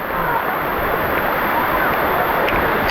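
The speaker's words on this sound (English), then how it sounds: "we are going into the waterfall now" Dense, continuous rushing of a waterfall in Kanchanaburi, Thailand, heard up close as a steady, loud broadband roar of falling water with no breaks.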